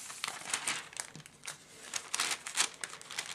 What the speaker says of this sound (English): I'm going to take the sketch out from underneath.